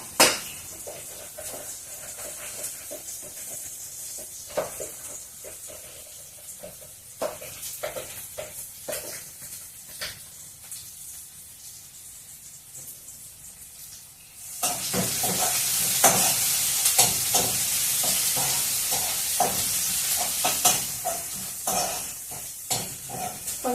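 Onions fry in a pan for tomato dal, a soft sizzle with stirring scrapes and taps at first, then the hiss swells suddenly louder and stays dense to the end, with no talking.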